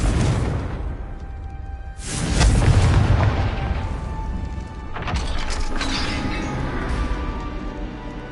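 A spell blast in a fantasy wizarding video game sets off a loud booming explosion with a whooshing rush. A second rumbling burst follows about halfway through, and no voices are heard.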